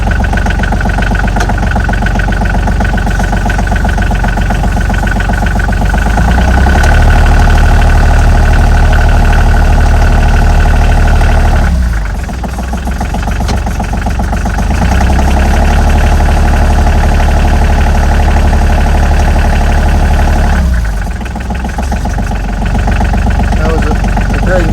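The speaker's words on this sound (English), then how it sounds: "we ran the transmission for the Saildrives in forward and reverse, and seems to be functioning" Boat saildrive engine running steadily while hauled out, its transmission shifted between forward and reverse gear, giving a loud continuous idle drone with brief dips in level as the gear changes, and voices talking over it.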